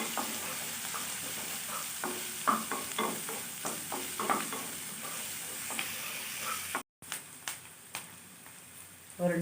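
Chopped onions sauté in a pan with a soft, steady sizzle punctuated by irregular stirring clicks and scrapes, briefly dropping out before resuming.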